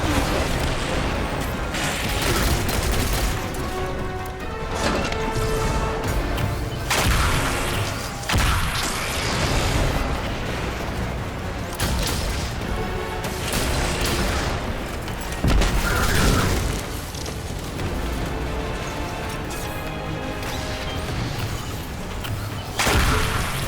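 The Tarantula linear fusion rifle firing precision energy bolts in Destiny 2, with loud repeated booming discharges and crashing impacts spaced irregularly across the passage, mixed with other combat noise.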